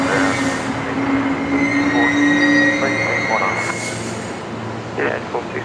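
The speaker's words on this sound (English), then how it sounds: "Noisy old air train there, just arriving." An old airport air train at Brisbane Airport pulls in at night, a loud, steady rumble with squealing wheels and a high tonal whine that fades as it arrives, while people talk faintly in the background.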